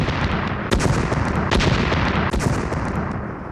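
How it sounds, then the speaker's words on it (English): Repeated explosions in a post-conflict area scattered with landmines, loud, dense rumbling blasts with several sharp bursts rising out of a continuous heavy roar, no voices. "it is routinely shattered by the sound of explosions"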